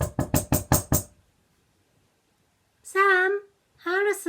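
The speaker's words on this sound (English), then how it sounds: "she tapped on the back door" Five quick, evenly spaced knuckle taps on a back door of a house, close and distinct, followed by a pause and then a voice speaking.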